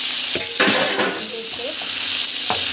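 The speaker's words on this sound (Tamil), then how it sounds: "ஸோ நல்லா வந்து வதக்கிட்டுக்கோங்க." Turmeric and coriander powder sizzle and fry with vegetables in a pan for sambar, with occasional stirring scrapes, steady close crackle throughout.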